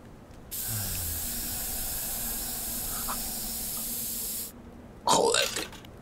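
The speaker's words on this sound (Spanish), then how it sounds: "El spray para machos." In the video game Little Inferno, a macho spray item gives a long, loud, steady aerosol hiss for about four seconds. A short burst of crackling and rattling follows.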